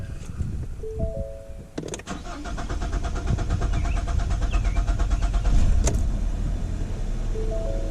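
A 2013 Ford Fusion with the 2.5 engine cranks briefly after a fuel pump replacement, then catches and settles into a steady close idle, with faint chimes before and after.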